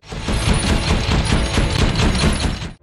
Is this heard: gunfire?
yes